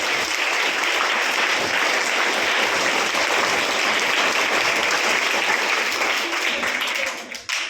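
Audience applause for school staff at a Standard 8 graduation ceremony: dense, steady clapping from a sizeable crowd, sustained and loud throughout before tapering off at the very end.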